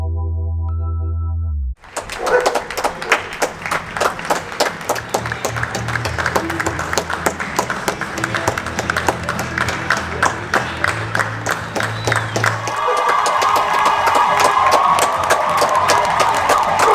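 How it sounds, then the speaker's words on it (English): Crowds clapping and cheering from apartment balconies at 8 o'clock make sustained, dense applause that echoes across the buildings, following a brief electronic tone at the start and swelling louder toward the end. "we've had the 8 o'clock clapping and cheering from the balconies"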